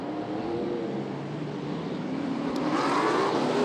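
A Super Sedan race car engine drones steadily at a distance on a speedway, its pitch rising slightly toward the end as it gets louder.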